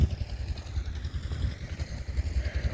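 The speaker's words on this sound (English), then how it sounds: "Just letting the tractor warm up" A farm tractor's diesel engine idles while warming up on a snowy winter morning off the grid in Wisconsin, a steady low rumble with light clatter throughout.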